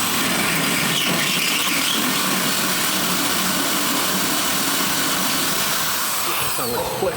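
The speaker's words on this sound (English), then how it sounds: "Hit it some more with the spot weld cutter." Spot weld cutter drilling out spot welds on a car body during a custom wheel tub install, a steady loud high-pitched whine that runs throughout with no break.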